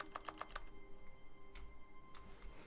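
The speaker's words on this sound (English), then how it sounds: "I was clicking." A quick run of four or five sharp mouse clicks while playing The Stanley Parable Ultra Deluxe, close and crisp, followed by near silence with faint room hum and a couple of soft distant ticks.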